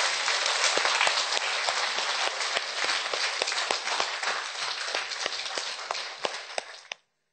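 Audience clapping at an international conference, sustained and dense for about seven seconds, then thinning to a few loud, scattered claps before stopping abruptly.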